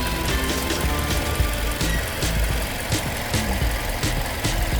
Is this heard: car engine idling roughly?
yes